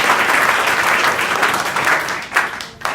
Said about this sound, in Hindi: तो ताली तो बजाओ जोर से